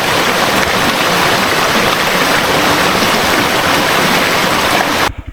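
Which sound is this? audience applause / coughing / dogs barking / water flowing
water flowing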